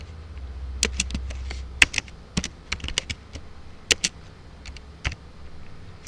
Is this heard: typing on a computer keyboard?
yes